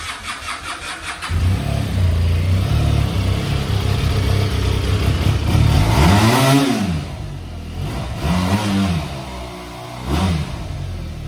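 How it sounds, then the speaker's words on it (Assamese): A Benelli SRK 400 twin-cylinder 400 cc motorcycle engine catches and settles into a loud, close idle, then revs up in several rising and falling blips before dropping back toward idle. "ডাবল সিলিন্ডার পুরো সুপার বাইকের দ্বারা আওয়াজ ভাই একবার প্রথমতে আওয়াজটো শুনা দিয়া"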